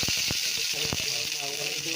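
Cooking oil hissing in a pan as a Filipino sautéed cauliflower and chayote dish gets started, a steady bright sizzle running throughout with a few soft knocks and clatters underneath.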